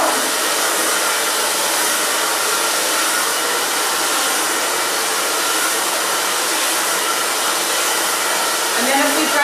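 A hair dryer blows steadily and loudly on a section of hair while it is styled into a chunky bob, its airflow a constant unbroken roar throughout with no pauses.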